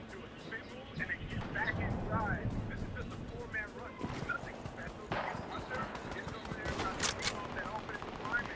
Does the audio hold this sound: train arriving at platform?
no